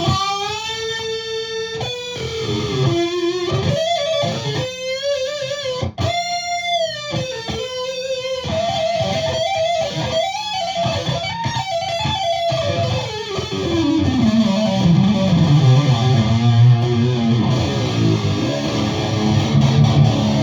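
A heavily distorted electric guitar plays lead phrases and bends through an Aphex 104 doubler turned up high, thick and doubled, ending in a long descending slide, loud and close with no talk.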